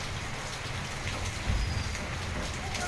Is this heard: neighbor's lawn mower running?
no